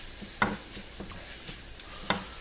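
Shrimp and Korean rice cakes are tossed and stirred in a pan, with a few distinct utensil scrapes and knocks over a faint, quiet sizzle.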